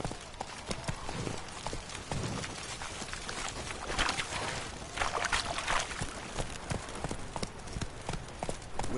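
Roach, a horse in The Witcher, trots with steady, close clip-clop hoofbeats that stay loud and even throughout, over a light outdoor ambience.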